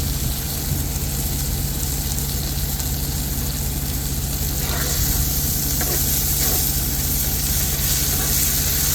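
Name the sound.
onions sizzling and caramelizing in a pan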